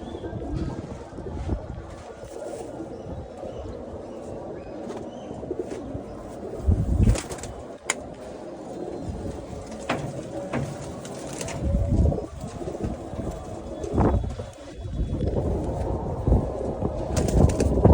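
Male pigeons in a home loft coo softly amid rustling and fluttering, with a few louder bumps and gusts of wind noise, no talking.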